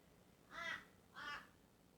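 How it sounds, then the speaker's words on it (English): A crow caws twice, two evenly spaced harsh calls about half a second apart, moderately close over quiet background. "A crow has definitely decided to join us today"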